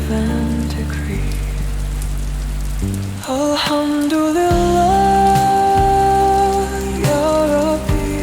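Rain falls steadily on a surface, a constant hiss of drops under sung music with a voice.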